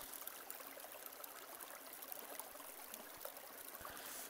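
Steady, soft rush of river water flowing along a riverbank, a continuous faint trickling wash with no voices.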